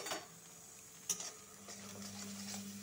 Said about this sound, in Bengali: পটল ভাজার তেলে মিক্সির দেওয়া উপকরণগুলো এটা ভালো করে ভেজে নিব